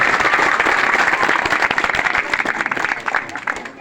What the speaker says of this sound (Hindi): जोरदार तालियां बजाकर उनकी हौसला अफजाई करें